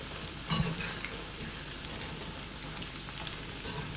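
Sweet banana chips (sharkara upperi) fry in hot oil, giving a steady, soft crackling sizzle across the whole stretch, with a brief louder clatter near the start and no voice.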